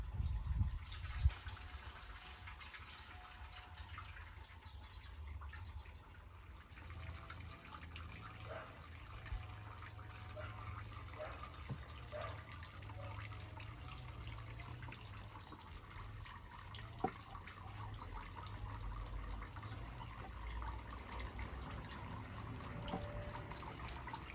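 Water flows steadily on a homestead, a soft, continuous low rush with faint trickling detail throughout and a couple of small knocks, heard alone without talking.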